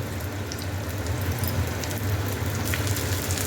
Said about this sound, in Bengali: এবার গ্যাসের ফ্লেমটাকে হাই করে এই পেঁয়াজগুলো বেরেস্তা বানিয়ে নেব।